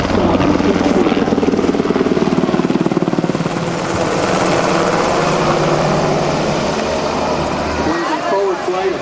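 UH-60L Black Hawk helicopter flying a demonstration display at a rotorcraft festival, with a loud, steady rotor thump and turbine roar throughout, shifting in tone as it maneuvers and easing slightly near the end, with a voice talking over it.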